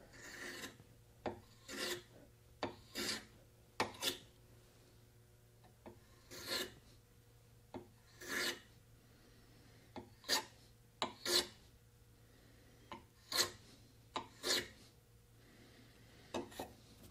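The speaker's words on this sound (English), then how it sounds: "I want to put a little chamfer on here because that's going to be hard to reach" A file rasps across wood while chamfering the edge of a handmade wooden try square, producing about a dozen short, crisp strokes in irregular bursts with quiet pauses between them, close and clear.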